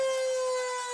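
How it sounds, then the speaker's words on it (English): A single steady siren tone, brought by a fan to a high school football game, wails continuously, holding one pitch at moderate distance. "there goes our siren again"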